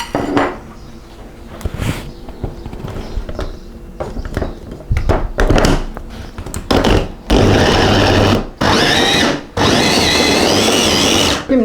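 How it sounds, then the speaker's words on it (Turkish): A food processor chopping onions whirs in loud bursts, with some clattering and pauses between pulses, ending in sustained, roaring chopping runs. "iç malzemesinde kullanacağımız soğanlarımı robottan çekiyorum"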